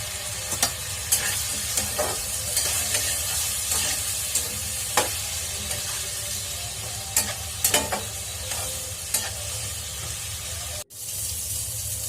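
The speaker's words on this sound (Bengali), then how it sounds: "প্রথমে মিষ্টি কুমড়া ভাজি করে তুলে ফেলবো।" Pumpkin frying in a pan with salt and turmeric gives a steady, close sizzle throughout, broken by occasional scrapes and taps of a stirring utensil, with a brief dropout near the end.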